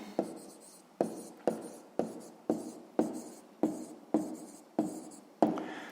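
Pen or chalk writing out a sixth-grade math answer, ten or so sharp strokes in a regular rhythm, each tap followed by a short scratch, close and alone.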